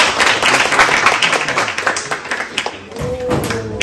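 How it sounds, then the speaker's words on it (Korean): An audience in a school hall applauds a meat master about to demonstrate butchering a beef carcass, a dense burst of claps running steadily for several seconds and then cutting off abruptly. "박수 한번 주세요."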